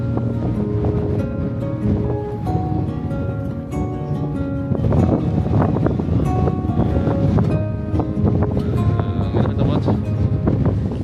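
Strong wind on a mountain summit trail roars steadily across the microphone throughout, a dense buffeting rush with no pauses, no rain.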